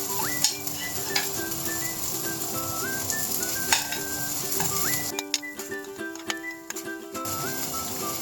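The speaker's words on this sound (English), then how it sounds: "Keep stirring so the meatball is not going to stick to the bottom of the pan." A utensil stirring and scraping meatballs in a pot of bubbling water, with occasional clinks against the pan over a steady simmering hiss.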